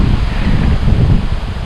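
Strong wind blows at a small forest lake on a cold day. It makes a loud, continuous rushing roar with buffeting on the microphone and no voices.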